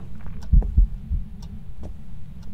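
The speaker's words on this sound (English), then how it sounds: "I was getting heartbeats" A heartbeat during a Phasmophobia ghost hunt, two or three deep low thumps in a quick pulse, close and loud against a faint background hum.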